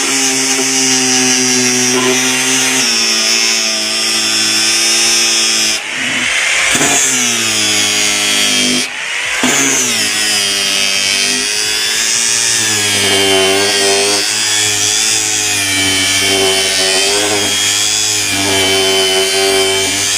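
Angle grinder fitted with a flexible sanding flap disc working steel angle iron, a loud continuous high whine with the pitch dipping briefly as the disc bites, running throughout.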